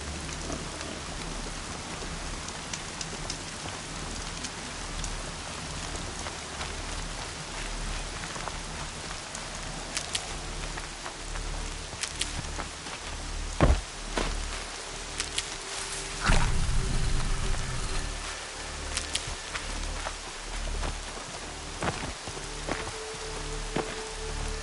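Steady rain falls and patters on surfaces for the whole stretch, a dense hiss with scattered louder drops and a few sharper knocks, moderately quiet with no voices.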